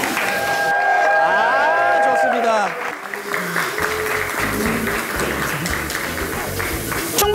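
An audience applauds at a Chungbuk Cheongju FC football club event, a broad wash of clapping and crowd noise with an announcer speaking over it as it fades.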